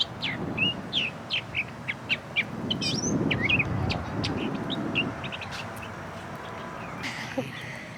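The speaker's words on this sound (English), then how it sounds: "I wonder if I could find the bird in the tree that's making that noise." In a park in Georgia, a bird calls from a tree with a string of short, sharp chirps and whistles, fairly close, repeated in quick bursts over soft outdoor background noise.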